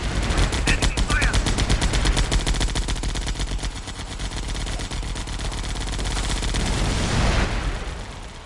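Anti-aircraft guns from the enemy in the Vietnam-era air combat game Air Conflicts: Vietnam rattle in dense, continuous bursts. The loud machine-gun chatter runs throughout, with heavier booming swelling near the end.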